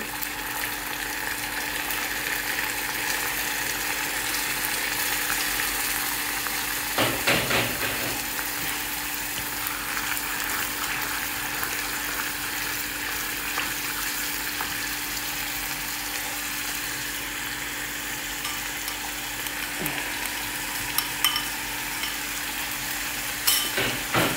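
Onions and chili pepper paste sizzling in a pan for a seafood dish, a steady frying hiss with intermittent stirring scrapes and clatters of a utensil, close and continuous over a faint hum; no one speaks.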